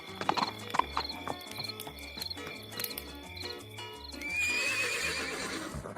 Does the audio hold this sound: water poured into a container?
no